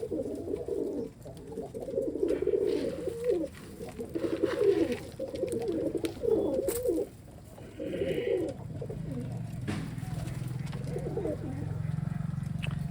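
Pigeons coo in low, repeated throaty bursts in a loft, several nesting birds with eggs and chicks close by, with a faint engine hum rising in the background toward the end.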